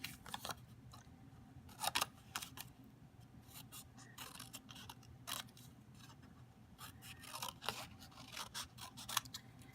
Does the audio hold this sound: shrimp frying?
no